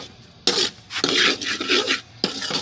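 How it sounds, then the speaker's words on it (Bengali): Semolina scraped and stirred in a little oil in a pan with a utensil, sounding as bursts of rasping, scratchy rubbing against metal after a quiet start, close and fairly loud, with no talk. "আমার এখানে তেল দিয়ে রাখছি একটুখানি দেখো সুজিটাকে একটু ভেজে নিই"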